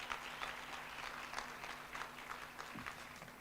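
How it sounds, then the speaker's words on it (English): Audience applause at a bursary awards ceremony in Gauteng: a steady, fairly quiet wash of many hands clapping, with a faint low hum running underneath the whole time. "A round of applause, please,"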